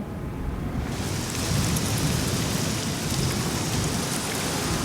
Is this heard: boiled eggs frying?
no